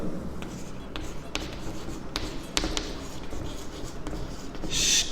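Chalk or marker taps and scratches on a board during a maths logic lesson, a series of short, close strokes spaced irregularly over a low room hum.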